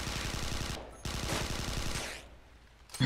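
Rapid automatic gunfire from a video game shooter, a burst of steady repeated shots, a brief pause, then another long burst that trails off, with a sharp crack right at the end.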